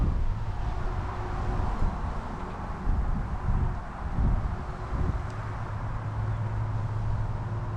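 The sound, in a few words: wind blowing through a courtyard and trees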